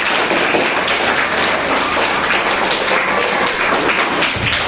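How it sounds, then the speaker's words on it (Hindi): A classroom of students clapping together on a teacher's cue during a science lesson on measuring instruments, a dense, steady wash of many hands close by that holds for several seconds, with no talking. "तो इस तरीके से सब ताली बजाओ।"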